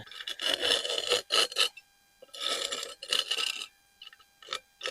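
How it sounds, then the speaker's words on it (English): A flat-bladed Japanese weeding sickle hoe scrapes weeds out of garden soil, several close, gritty rasping strokes in short bursts separated by pauses, with no voices. "I like to use this kind of this flat blade, and you can scrape everything out"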